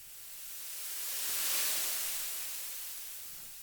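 Synthesized white noise sweep layered with a lower-pitched noise layer, rising smoothly to a bright peak near the middle and then falling away, with no voice present.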